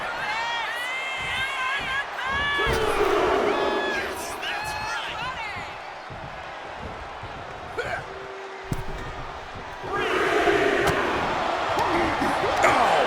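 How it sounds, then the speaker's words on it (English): A large wrestling arena crowd at WWE Monday Night Raw roars and cheers continuously, swelling in loud waves. An excited commentator talks over the noise throughout. "Jacob Fatu feeding off the crowd, feeding off their energy"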